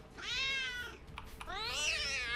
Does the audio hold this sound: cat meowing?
yes